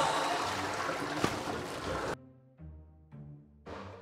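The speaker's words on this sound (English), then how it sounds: "Come on, flush." A toilet at Canon Hall Farm flushes with a loud, steady rush of water for about two seconds, then cuts off abruptly into a few short tonal sounds.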